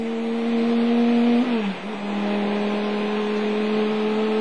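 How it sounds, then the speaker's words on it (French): An 8-litre V10 Chrysler Viper race car at the 1999 Le Mans 24 Hours sounds as a steady, loud engine drone with a brief dip in pitch midway as it passes or shifts, then settles back into a sustained whine. "Un moteur 8 litres qui développe quelques 650 chevaux"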